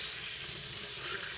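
Tap water runs in a steady, bright hiss as a bar of coconut oil cold process soap is rinsed under it, close and continuous with no talking.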